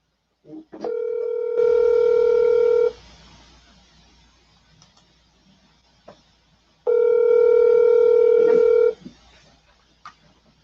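Two bursts of steady, loud telephone tones ring out about four seconds apart while a call is being placed and goes unanswered, with faint background sounds between them.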